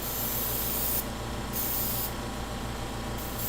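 An airbrush sprays chameleon pigment powder in bursts, a steady hiss that briefly cuts out twice and resumes, close and loud with no talking.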